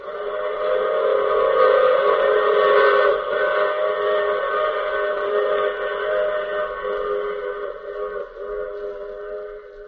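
Steam train running steadily with a sustained, sounding whistle, a radio drama sound effect from The Mysterious Traveler; the loud layered whistle tones hold over the rolling rail noise throughout, with no talking.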